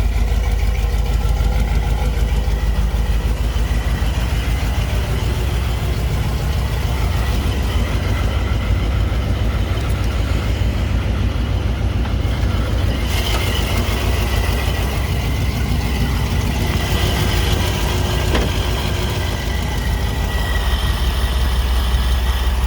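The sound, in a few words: truck engine idling through side exhaust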